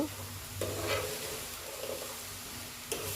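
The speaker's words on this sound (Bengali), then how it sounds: "ভালো করে নারকেলটা ভেজে নিতে হবে" Grated coconut stir-frying in a pan with salt for a bhapa pitha filling, a steady low sizzle broken by a few scraping stirs of the spatula, close and moderately quiet, no talking.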